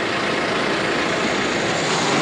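Remote-controlled tractor running with its PTO engaged, a steady, dense engine drone with no clear changes across the short stretch, loud and close, no talk.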